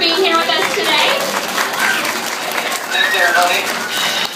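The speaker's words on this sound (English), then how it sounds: "So let's give Diver Will a big round of applause for being here with us today" Audience at an aquarium fish-feeding show at a science museum applauds a diver, clapping heard beneath loud talk and cooing birds nearby.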